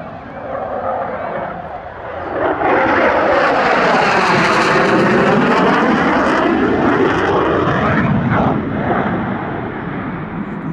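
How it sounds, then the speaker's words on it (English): A Hornet fighter jet flies a display routine at the Langkawi airshow with only one afterburner lit, its loud roaring engine swelling and sweeping in pitch as it passes, with a voice talking over it. "Some trademark Hornet pirouettes there."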